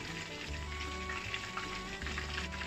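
Hakka-style chicken drumsticks in fermented bean curd marinade deep-fry slowly over low heat, giving a steady, soft bubbling sizzle with a faint tonal hum underneath.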